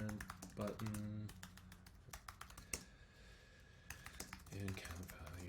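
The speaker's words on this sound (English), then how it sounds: "let's go ahead and start typing out invoke decrement button" Rapid typing on a computer keyboard, with bursts of close key clicks and short pauses, heard under someone talking at intervals.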